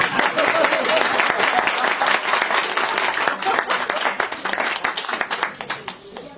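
Dense audience applause and clapping fills a comedy show venue, loud and sustained throughout, with individual hand claps crackling near the end as it starts to thin.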